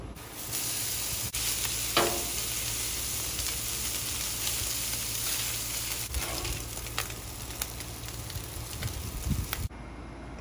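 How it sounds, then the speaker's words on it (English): Cuban pork heats in a pan with a continuous, dense sizzle and crackle, a steady frying hiss with occasional spits and utensil scrapes, close and fairly loud throughout. "Heat up the pork."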